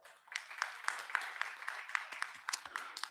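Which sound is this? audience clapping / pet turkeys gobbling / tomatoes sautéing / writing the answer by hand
audience clapping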